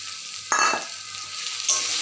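Pre-fried pointed gourd pieces go into hot spiced oil in a pan, giving a sudden burst of sizzling and a continuous crackling fry, with a second flare of hissing a moment later, close and fairly loud.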